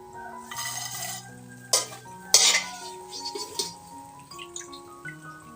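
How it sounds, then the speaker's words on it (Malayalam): Golden fried papadam lifted out of hot oil in a kadai, with metal scraping and stirring clatter, a few sharp utensil knocks against the pan, and faint sizzling underneath, close by. "ഇനി നമുക്ക് എണ്ണയിൽ നിന്ന് കോരി മാറ്റാം"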